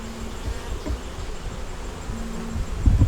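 Honey bees buzz steadily inside a stack of three deep 8-frame hive boxes, a close, continuous drone that swells a little louder near the end.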